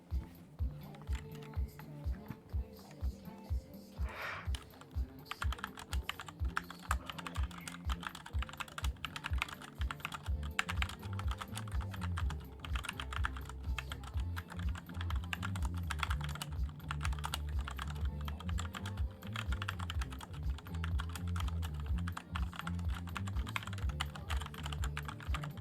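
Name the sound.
typing on a SteelSeries computer keyboard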